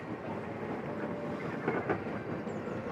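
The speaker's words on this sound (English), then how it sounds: "Here comes the train." A small model train at LEGOLAND Windsor's Miniland rolls past, giving faint clickety-clack rattling and a soft squeal over outdoor ambience.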